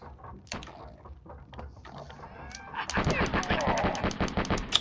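Gunfire in the Lucky Luke PlayStation game: a few scattered shots early, then a rapid, even volley of sharp repeated bangs through the last two seconds, fairly loud against background game sounds.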